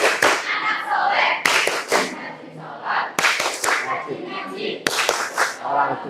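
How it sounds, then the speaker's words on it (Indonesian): A class of children plays a group hand-clapping game, sharp bursts of unison claps falling about every one and a half seconds between stretches of chanting voices. "Tepuk satu."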